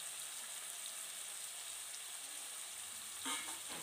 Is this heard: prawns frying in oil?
yes